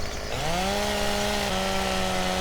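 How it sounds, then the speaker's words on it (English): Chainsaw in Farming Simulator 17 felling a tree in a forest, a steady loud engine drone that rises in pitch as it revs up, then holds a sustained cutting tone throughout. "So I'll just get my chainsaw out."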